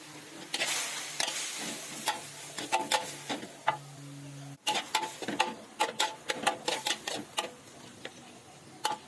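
Pork and vegetables such as eggplant, long beans and bamboo shoots stir-fried in a pan, a busy run of scraping utensil clicks and clatter over a soft sizzle, close and fairly quiet, with no voices.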